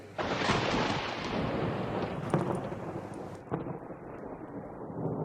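Heavy monsoon rain pours down in Pardi, Gujarat, with thunder rumbling loudly and a few sharp cracks, a dense broad roar that thins toward the end.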